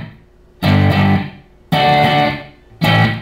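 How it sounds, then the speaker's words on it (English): Electric guitar, a Stratocaster on the bridge pickup through a Marshall Code 50 amp set to crunch with a little reverb, strumming three loud distorted chords, each ringing out and decaying before the next. "This is crunch with a little reverb."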